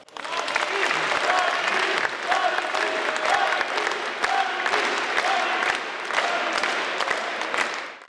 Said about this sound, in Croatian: Pozdravimo velikim pljeskom našeg predsjednika generala Domovinskog rata Branimira Glavaša.